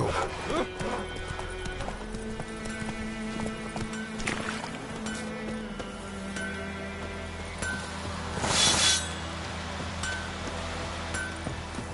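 Horse hooves clip-clop at a steady gallop in the Witcher 3 video game, with a whinny and game dialogue voices over the continuous rhythmic footfalls.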